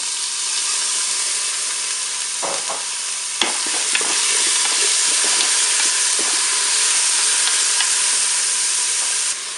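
A pork roast sizzles and browns with onions in a Cookeo multicooker, a steady loud frying hiss broken by a few clicks and scrapes of stirring.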